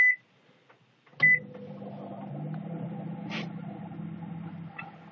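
A SANYO EM-G1573W microwave oven beeps as it is set, then runs at maximum power with a steady low hum and faint mechanical whir, with another short beep near the end.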